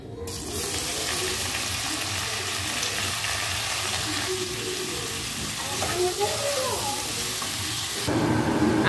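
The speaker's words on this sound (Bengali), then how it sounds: "এবারে ইঁচড়টা আলুটা নুন হলুদ দিয়ে ভেজে নেব।" Green jackfruit and potato pieces frying in hot oil with salt and turmeric, a steady close sizzle and hiss running throughout, with brief stirring clatter toward the end.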